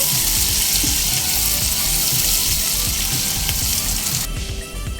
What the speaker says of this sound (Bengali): আমি এখানে একটা কুচনো পেঁয়াজ দিয়ে দেব পেঁয়াজ নরম হয়ে আসা পর্যন্ত একটু ভেজে নেব